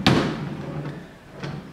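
A drawer in a DIY craft table slides shut with a sharp thump at the start, then a softer knock follows about a second later, close by with no talk.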